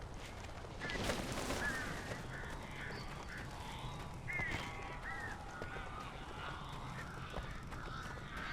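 Strange birds cawing inside a cabin in the Alan Wake video game, several harsh croaking calls scattered over a dark ambient background, some near and some farther off.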